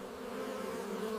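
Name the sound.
bees buzzing among blueberry plants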